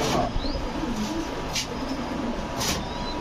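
Pigeons coo at a bustling pigeon market where old-breed Sapchila and black-necked males, Giribaz highflyers and racers are sold, with low murmuring coos and faint chirps over a steady crowd and traffic hum.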